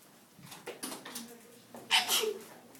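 A single sharp sneeze bursts out close by, after a few soft breathy sounds.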